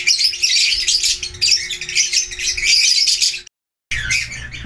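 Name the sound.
pet birds chirping in breeding cages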